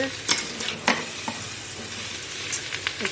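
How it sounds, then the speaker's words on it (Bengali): Half-fried potatoes sizzle steadily in a pan on a home stove, with occasional scraping stirs of a spatula cutting through the constant frying hiss. "এটা ভাজা হচ্ছে ধিমে আছে ভাজা হোক"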